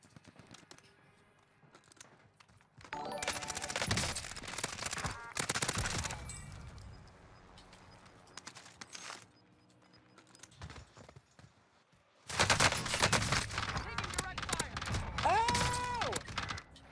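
Gunfire in the video game Warzone on Rebirth Island: dense, loud bursts of rapid submachine-gun fire in two main stretches, separated by quieter moments with footsteps and a player talking.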